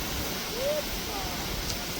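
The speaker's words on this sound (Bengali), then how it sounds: "ঝড় উঠেছে খুব জোরে" A strong storm wind in Odisha roars as a dense, unbroken rushing noise that buffets close to the microphone and fills the whole moment without pause.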